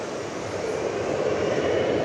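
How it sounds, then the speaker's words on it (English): A Boeing 747 landing close by at DFW Airport, a steady broad engine roar that holds loud and even throughout the short stretch with no voices. "A 747 landing right in front of us."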